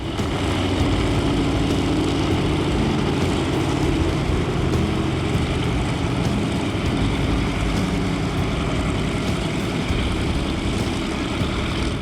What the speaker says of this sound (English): Right now they're running up the engines to make sure everything is in good working order.